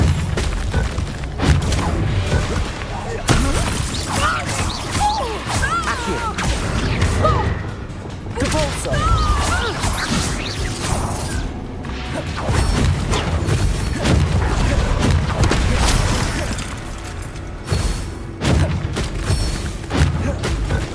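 Bombarda explosion spell in the Hogwarts Legacy video game, heard as loud repeated booms and crashes with whooshes and clattering combat effects throughout the fight.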